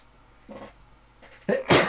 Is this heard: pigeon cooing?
no